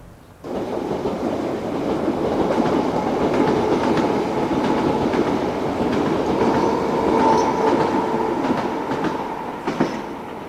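An unrefurbished 1973 stock London Underground Piccadilly Line train rumbles past close by, with steady wheel clatter, a sustained motor hum and a brief squeal near the end.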